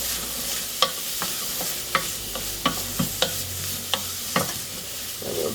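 Ginger and sliced garlic frying in toasted sesame oil in a pan, a steady close sizzle broken by repeated sharp scrapes and clacks of stirring.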